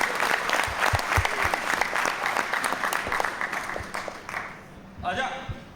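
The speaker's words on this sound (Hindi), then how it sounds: "आप सब दोनों हाथ ऊपर उठा के एक बार जोरदार तालियां" A stand-up comedy audience claps loudly at a comedian's show, with dense, sustained applause that fades near the end as a voice briefly comes through.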